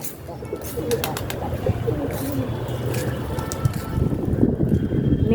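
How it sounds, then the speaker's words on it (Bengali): A flock of pigeons feeding outdoors on a sunny day coos in a low, busy murmur mixed with wing flutters and scattered ambient noise, with faint voices in the background. "কত পায়রা এসছে খেতে, এখানে দেখো।"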